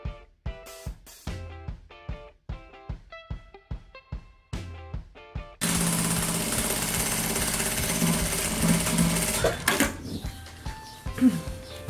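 Sewing machine stitching the seams of a fabric beach bag, a loud continuous run lasting several seconds, preceded by rhythmic tapping and followed by a few lighter clicks.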